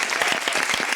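Studio audience applause on a talk show, brisk overlapping claps with a few louder individual hits standing out, close and fairly loud throughout.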